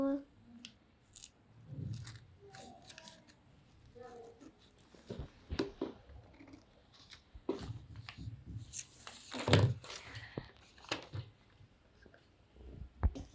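Scissors snip through material in short crisp cuts that bunch together toward the middle of the stretch, with soft handling noise and occasional talking underneath.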